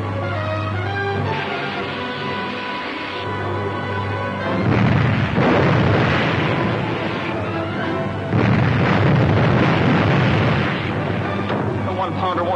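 Naval gun fire in a 1941 film, heard as heavy booming blasts that swell twice over a steady hum and music-like background, with dialogue nearby.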